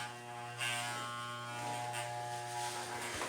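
Electric clippers buzz steadily up close while shaving hair off a head, with a constant hum and slight shifts in pitch as the blades move over the hair.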